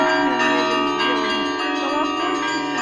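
Church bells ring at Nikitsky Monastery in Pereslavl-Zalessky, a steady wash of sustained metallic overtones filling the whole clip with no clear gaps between strikes.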